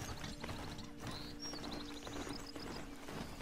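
Quiet hoofbeats clip-clopping from a mount in the video game Horizon Zero Dawn, a soft rhythmic trot under faint chirps and game ambience.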